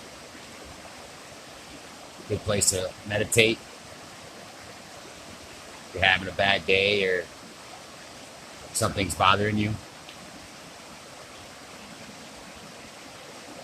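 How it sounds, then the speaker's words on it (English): Steady broadband rush of flowing water runs throughout, like a nearby waterfall, with someone speaking in three short bursts over it. "listening to the water in a waterfall brings peace of mind."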